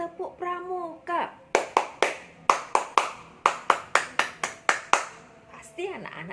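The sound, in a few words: scout clap rhythm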